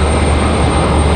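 An Airbus A321 airliner at Raleigh-Durham airport, a brief loud continuous jet engine rumble heard alone.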